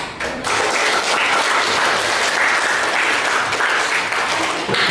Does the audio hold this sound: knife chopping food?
no